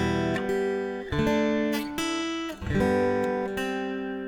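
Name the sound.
guitar chords strummed with melody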